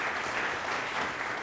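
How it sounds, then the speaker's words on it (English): A steady wash of audience applause for panelists at a Columbus Metropolitan Club forum, even and sustained throughout, with no speech over it. "let's give our panelists another round of applause,"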